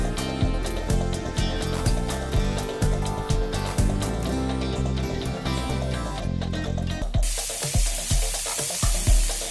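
Chicken tikka pieces frying in oil, a bubbling sizzle under a steady musical backing that later drops away and leaves the crackling hiss more exposed.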